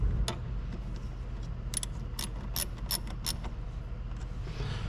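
An 11mm wrench tightens the gas pedal bracket bolts on a VW MK2 during an adjustable pedal adapter install, giving quiet clustered ratcheting clicks and metallic ticks close by.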